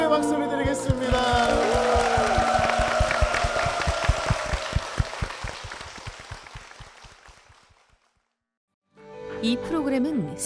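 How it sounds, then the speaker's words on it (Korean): A church congregation applauds during a worship service, with dense clapping layered over sustained music and voices, gradually thinning and fading out to silence before a short spoken segment begins. "주님께 영광의 박수를 드리겠습니다"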